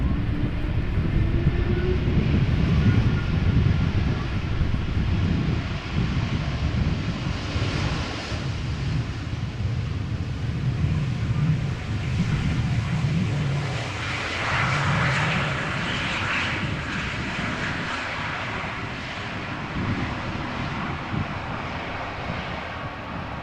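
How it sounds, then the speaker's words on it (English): A KLM Embraer 195 E2 jet touching down at Amsterdam Schiphol airport, heard as a loud, sustained broadband engine roar and rushing wind noise that slowly tapers, with no voices. "Another E2 Embraer 195 from KLM. In the meantime, about to touch down very gently."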